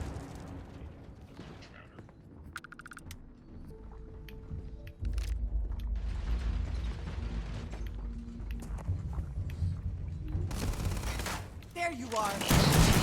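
Automated turret gunfire in the space game Starfield, bursts of rapid shots and heavy booms scattered across the fight, with a player's voice talking now and then under the noise.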